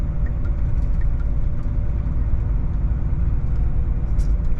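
A truck rolls slowly along an industrial side street and service road in Fyshwick, Canberra, its engine a steady low rumble close up and constant throughout.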